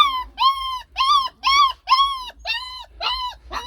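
A freshly showered dog, left out in the sun to dry, lets out a run of eight high, drawn-out whimpering whines in steady succession, close and fairly loud, with no talk over them.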